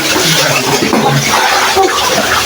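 Water from a pump rushes into a well during cleaning, a steady, loud, broadband gushing that fills the whole stretch without pause.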